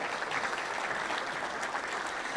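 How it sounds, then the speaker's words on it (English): Audience at a Little Rock Touchdown Club luncheon applauding volunteers, a dense, even wash of clapping from a room full of people, with no talk over it. "Let's please give them all a round of applause."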